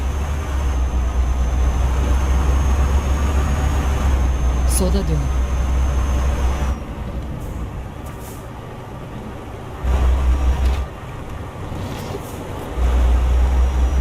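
A truck in Euro Truck Simulator 2 rumbles with a steady low engine drone that swells and drops as the throttle changes, while a navigation voice speaks briefly over it.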